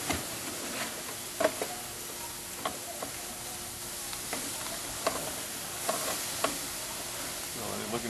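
Sauced chicken wings on a grill give a soft, quiet, continuous sizzle, with faint crackles and small ticks scattered through it.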